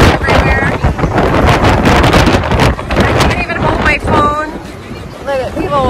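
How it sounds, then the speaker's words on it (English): Strong sea wind of 35 mph gusts buffets the microphone aboard a cruise ship in heavy rushing gusts, with voices talking and calling out over the roar. "It's a little windy out here. I mean, just a little. 35 mile per hour gusts."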